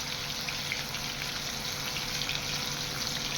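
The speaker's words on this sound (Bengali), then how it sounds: "এখন আমি এগুলো ভাজবো, মাছ ভাজবো।" Pieces of rohu fish fry in hot oil in a pan over lowered heat, giving a steady, even sizzle and crackle close by, with no talk.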